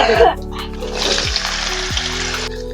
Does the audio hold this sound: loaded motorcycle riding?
no